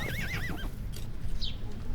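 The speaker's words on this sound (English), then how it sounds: "Horses rush past" Horses neigh and whinny close by, a sharp wavering call followed by hoof clip-clop and rushing movement during an ancient ritual-style event with a crowd.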